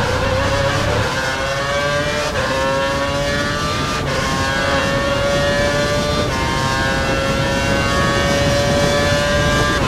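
Formula One race car from F1 2012 powering out of a corner past 185 mph, its engine note climbing steadily through the gears in a loud, continuous howl with rising harmonic pitch and brief shifts.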